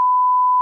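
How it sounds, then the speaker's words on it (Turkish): A single steady censorship bleep, a pure high tone held evenly for under a second, loud and alone over silence. "Yani biplersiniz burayı."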